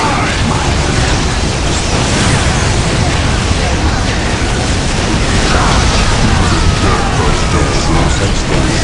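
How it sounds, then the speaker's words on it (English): Loud, dense battlefield noise in the 2004 PC game Warhammer 40,000: Dawn of War, with a grenade blast among continuous booms, crashes and mechanical clatter that fill the whole stretch without letup. "Let the grenade fly!"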